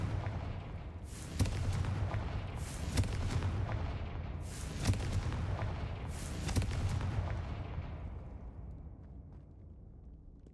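Four heavy fire-spell blasts from Confringo in Hogwarts Legacy, evenly spaced booming explosions each followed by a long rumbling decay, the last one trailing off into quieter crackle.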